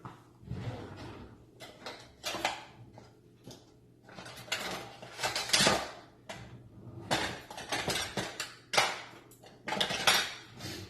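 Metal whisk clinking and scraping inside a pot of homemade hot chocolate, giving irregular bursts of clattering strokes at close range with no talking.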